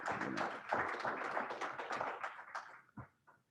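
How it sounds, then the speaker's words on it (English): Applause from a room of attendees at a polio eradication talk: a modest crowd clapping quietly at a distance, thinning into a few scattered final claps. "Could you give yourselves a round of applause?"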